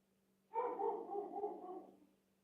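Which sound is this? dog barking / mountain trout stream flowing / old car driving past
dog barking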